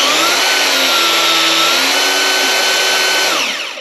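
Anbull 1000W cordless electric rebar cutter runs with a loud, steady motor whine close by, then winds down at the end.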